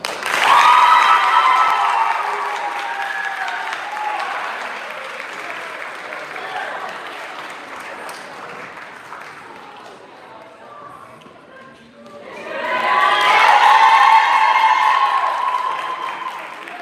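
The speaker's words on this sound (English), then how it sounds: "One more round of applause" Audience applause at a college fraternity and sorority life awards ceremony: loud clapping and cheering swell, fade to a quieter stretch, then surge again strongly near the end.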